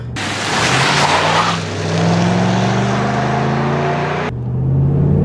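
A Ram 1500 pickup truck accelerating hard from 0 to 60 mph, its engine roaring loud and close, rising in pitch through steady gear pulls with brief shift dips before cutting off near the end.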